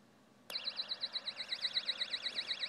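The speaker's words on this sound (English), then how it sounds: "And that's the sound of the oscillator" A warbling electronic alarm tone from a dollar store door alarm oscillator, heard through a radio, starts abruptly and cycles rapidly up and down in pitch, steady and fairly loud over a faint hiss.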